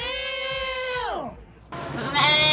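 A sheep of an American-descended breed gives a long, loud, wavering bleat that slides down and fades, followed by a noisier burst of bleating, with people talking nearby.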